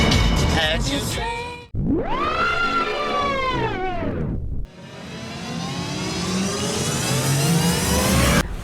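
A car drives through a work area at a refinery in Spain, its engine revving up and rising in pitch, then dropping and building again as it accelerates, loud and close with no talk.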